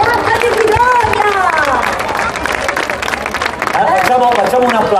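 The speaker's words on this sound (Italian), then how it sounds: "Facciamo un applauso come si deve, dai, facciamo un bel applauso" An audience at a disco stage during a Notte Bianca night event claps and cheers in a dense, continuous wash of applause, with shouting voices and music riding over it throughout.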